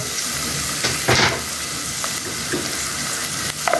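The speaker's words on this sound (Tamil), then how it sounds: "இது வந்து நல்லா பொன்னிறமாக வதங்கணும் வெங்காயம்" A medium onion fries in oil with ginger, garlic and green chilli for a chicken potato gravy, producing a loud continuous close sizzle with a few brief stirring scrapes, no talk.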